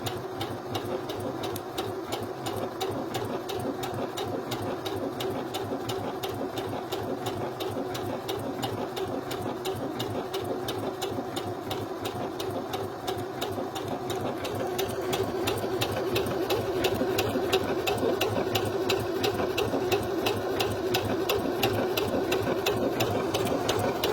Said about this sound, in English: I'm going to start sewing again